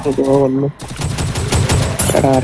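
Rapid bursts of automatic gunfire crackle in quick succession, with a voice talking at the beginning and end.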